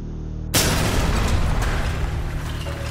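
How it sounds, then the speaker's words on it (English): A C2 breaching charge detonates in Ready or Not: near silence, then a sudden loud blast that rolls into a long, dense roar of debris and rumble which holds for seconds. "Let's have y'all breach it with a good old C2"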